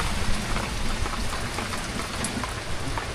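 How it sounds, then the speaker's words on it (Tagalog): Steady rain pours down on a farm, a dense, even hiss of drops hitting surfaces that stays loud and constant throughout with no voices. "Patay yung ulan."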